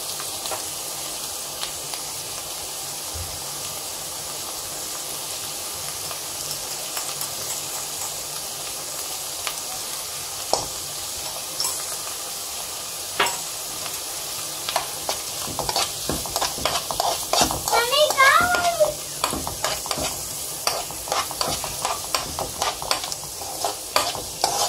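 Onions frying in a pan until brown for an egg roll gravy curry, a steady close sizzle with scattered scraping stir strokes that grow busier toward the end.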